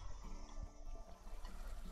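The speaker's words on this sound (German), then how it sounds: "Ich kann nicht in die Dusche. Ich kann sie nur anmachen." A shower runs in the farming game Farm Together, a faint steady hiss of falling water, continuous and soft, with no voices over it.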